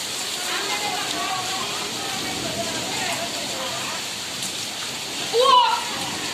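A hailstorm downpour in Bhavnagar hisses steadily and loudly over streets and rooftops, with a short louder burst near the end and faint voices underneath.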